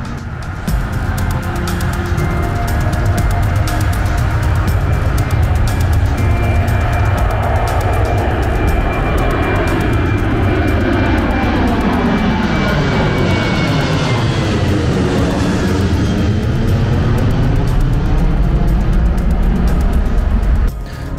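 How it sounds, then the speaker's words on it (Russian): A loud aircraft engine drones steadily nearby as the plane prepares for takeoff at Adler, its pitch slowly shifting and sweeping as the plane moves, with no voices over it. "Вот, кстати, самолет какой-то готовится на взлет."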